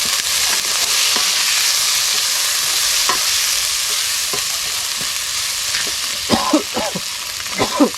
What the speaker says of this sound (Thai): ผัดเครื่องให้หอมๆสักนิดก่อน ประมาณนี้เลยแล้วก็ใส่ปลาเลยครับ